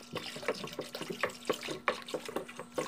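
Alcohol being poured into a glycerin soap base made with caustic soda: a faint, close-up liquid pouring and splashing with irregular gurgling pulses throughout, with no talking.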